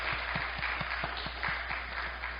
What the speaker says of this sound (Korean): 박수로 크게 환영하겠습니다.